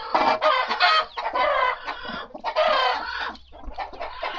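Native Thai chickens cluck and squawk close by in repeated bursts, with short pauses between the calls and no talking.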